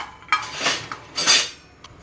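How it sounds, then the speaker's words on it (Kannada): Peanuts being dry-roasted in a pan for a North Karnataka peanut chutney: a few short bursts of rattling and scraping as they are tossed and stirred, with clinks of utensil against metal between quieter moments, close by. "ಈಗ ಮೊದಲಿಗೆ ಇಲ್ಲಿ ಶೇಂಗಾ ಹುರ್ಕೊತಾ ಇದ್ದೀನಿ"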